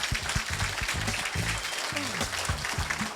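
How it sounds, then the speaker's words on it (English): Audience applause fills a conference room at the close of a real estate business event, steady broadband clapping throughout, with voices and chatter talking over it in the foreground. "Let's get a round of applause"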